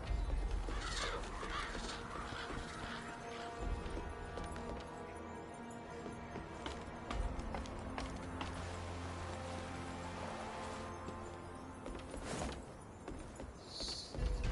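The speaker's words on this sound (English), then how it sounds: "Those are some big-ass crows." Large crows cawing in Wuchang: Fallen Feathers, several rough calls scattered over a dense game ambience with faint footsteps, moderately distant.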